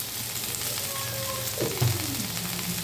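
Pointed gourd and potato frying in a pan at medium heat, a steady close sizzle with a brief stir partway through.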